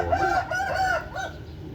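A fighting rooster crows nearby in one drawn-out call over steady background noise.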